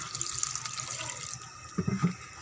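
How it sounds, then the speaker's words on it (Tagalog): Water pours into a pot of sotanghon noodle soup with a soft trickling stream, ending in a few close, hollow splashes and glugs. "kaya magdagdag ulit ako ng tubig kasi sinipsip na ng sutanghons"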